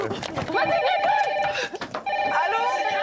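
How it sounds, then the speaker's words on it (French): The red telephone rings in the Secret Story house, a loud repeating electronic ring lasting throughout with brief gaps, mixed with background noise. "le téléphone rouge a sonné une nouvelle fois"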